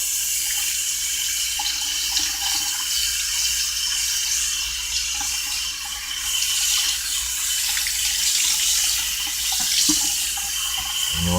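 Tap water runs steadily and close by while aquarium filter foam from a large AquaClear filter on a saltwater tank is rinsed under the stream, a continuous broadband hiss with no talking.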